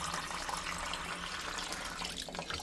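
Water runs into a small 6 gallon water heater tank as a constant, soft rushing and trickling flow, fairly quiet and steady with no voices.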